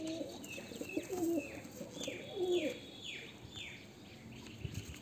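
A white Madrasi pigeon cooing up close, several soft repeated coos among chirping birds in the background, moderately faint.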